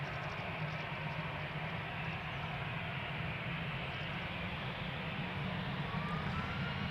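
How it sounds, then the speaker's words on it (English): Steady broadband jet roar from an EasyJet Airbus A319 departing on runway 24 at Amsterdam Schiphol, a continuous loud rumble and hiss holding even throughout, with no voices. "EasyJet flight 22518 going to London Luton, A319, let's go!"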